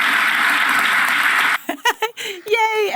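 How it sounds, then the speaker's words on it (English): A television studio audience claps in a dense, steady burst that stops abruptly, followed by a few chuckles and talk. "Yay, everyone clap again."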